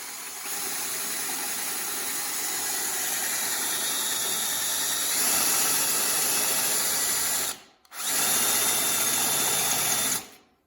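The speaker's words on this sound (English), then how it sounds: "put your drill bit. This is a 15/64 drill." A power drill with a 15/64 bit whines steadily while drilling a hole to mount a mini bike brake light, rising slightly in pitch midway, stopping briefly, then running again before cutting off; no talking.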